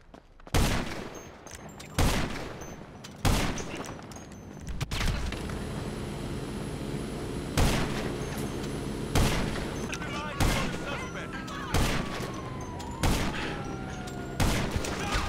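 Video game gunfire from a sniping match, heavy rifle shots and bursts booming at irregular intervals over a steady battle rumble, with players talking throughout.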